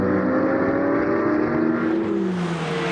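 Porsche race cars battling in close formation at Le Mans, a loud steady engine drone that holds at high revs throughout, with a slight drop in pitch near the end as the cars pull through.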